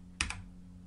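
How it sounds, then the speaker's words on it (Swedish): A single computer keyboard key is pressed once, a sharp close click with a faint second tap just after, then quiet room hum. "Och så trycker jag K."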